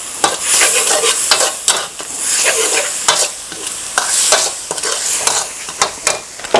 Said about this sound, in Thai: จากนั้นก็ผัดครับ